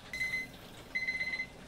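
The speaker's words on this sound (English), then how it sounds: "The alarm's sounding for the second time now." Electronic alarm on a reflux still distilling controller, two bursts of high steady beeping, a short one and then a longer pulsing one, close and clear over a quiet background.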